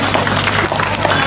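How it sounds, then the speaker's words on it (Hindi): A large crowd at an outdoor political rally claps steadily and densely, a continuous wash of loud applause with background murmur throughout. "जोरदार तालियों से उनका स्वागत कीजिए।"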